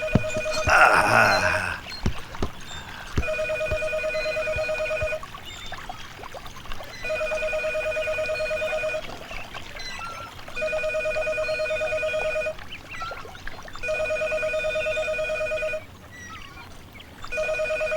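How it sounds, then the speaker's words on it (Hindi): A telephone rings in repeated bursts of about two seconds with short gaps, a loud electronic double-tone ring that repeats five times, with no one speaking over it, in a scene from a Hindi-dubbed South Indian film. "फोन बजे जा रहा है, कोई उठा तक नहीं सकता।"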